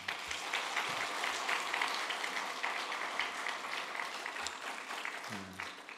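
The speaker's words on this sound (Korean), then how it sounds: "축복의 박수." A church congregation gives a sustained round of blessing applause, dense steady clapping filling the whole stretch at even strength, with a brief voice near the end.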